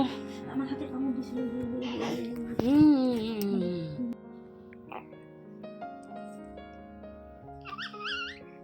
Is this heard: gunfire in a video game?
no